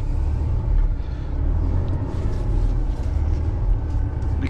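A truck engine rumbles low and steady while the vehicle is parked, a continuous close drone with no break.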